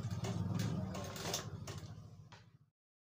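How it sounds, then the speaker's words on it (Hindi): A sewing machine runs a steady, fast stitching whir while sewing a pocket on a sherwani, close and moderately loud, then stops abruptly after about two and a half seconds. "यहाँ पे इसका जेब में सिलाई मारेंगे।"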